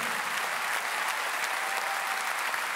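Steady applause from a big arena concert crowd for an accordionist being introduced on stage, an even, continuous roar of clapping that holds at a distance for a few seconds.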